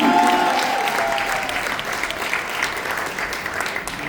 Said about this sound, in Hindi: तो सबसे पहले हमारे हिटलर सर के लिए प्लीज तालियां बजाइए